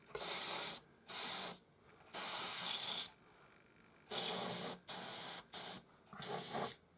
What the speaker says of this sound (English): So once I've sprayed all of these barricades up silver, nice and even